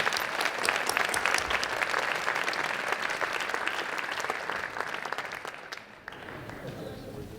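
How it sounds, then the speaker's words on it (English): Crowd applause fills a large theater during a PechaKucha presentation night, loud and dense at first, then thinning and fading toward the end. "I think that deserves a big round of applause for Geeg."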